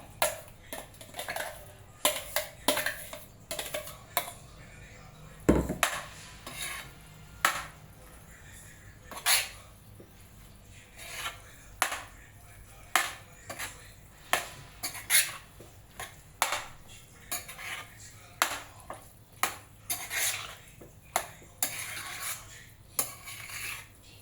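A spoon scrapes and clinks against a pot while ground paste is mixed into cucumber chutney, a long run of irregular metallic taps and scrapes, fairly close and moderately loud.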